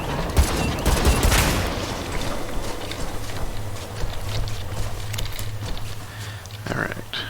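Gunfire from the video game Crucible rattles in a dense, continuous fusillade at moderate loudness, with someone talking over it.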